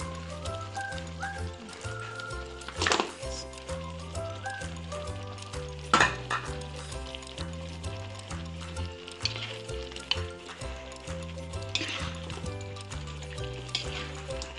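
Chicken pieces frying in a pan for a spicy dish, a steady sizzle with a few louder pops and stirring clatters, heard under continuous background music.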